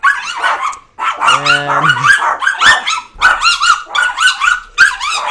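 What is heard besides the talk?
dogs barking as people leave the house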